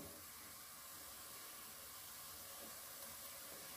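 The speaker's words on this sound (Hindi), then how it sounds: "देखिए पानी उबलना शुरू हो चुका है" Steady hissing and bubbling of water coming to a boil in a pot with spinach, a constant broadband rush with no voices.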